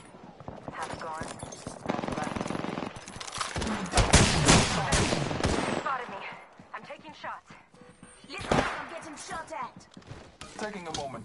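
Rapid gunfire in the video game Apex Legends, with bursts of shots and impacts that swell and fade, mixed with clattering effects and voices talking throughout.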